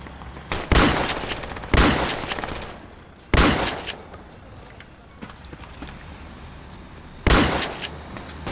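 A .50 caliber machine gun fires in the Project Reality military shooter game in four loud, sharp bursts spread across several seconds, each with a fading echo and quieter gaps between.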